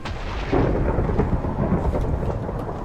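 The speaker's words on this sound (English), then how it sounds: "I'm gonna get rid of the rain here, just because it's bad for the stream quality" A Minecraft thunderstorm, with a loud rolling boom of thunder swelling early and rumbling on over a steady hiss of heavy rain, and no voices.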